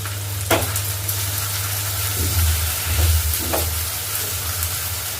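Coriander powder and Kashmiri red chilli powder sizzle and hiss steadily in a hot pan while a spoon stirs through the spices, a few scraping strokes audible over the continuous frying, with no talk.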